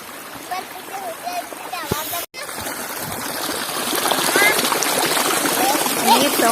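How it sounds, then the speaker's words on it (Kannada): Stream water rushes steadily over rocks at an outdoor crossing, a broad continuous wash that swells louder in the second half, with brief voices near the start. "ನೀರು ಸೌಂಡ್ ನೋಡಿ"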